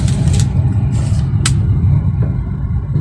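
A car engine pulling through second gear toward third: a loud, steady low rumble fills the cabin, with a few faint higher clicks and whooshes over it.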